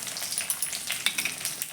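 White sesame seeds with red and green chillies and curry leaves sizzling in hot oil while tempering spices for Gujarati methi bajra muthiya, a steady close crackle with small pops throughout.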